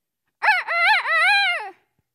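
A person playing Peter Pan on stage imitates a rooster's crow, one loud, close, drawn-out cock-a-doodle-doo in three rising and falling parts, heard alone.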